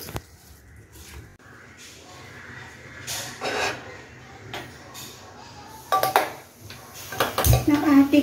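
A handi cooking pot being handled before frying paneer in ghee, with scattered metallic clanks, scrapes and clinks of pot and utensils at close range in a quiet kitchen.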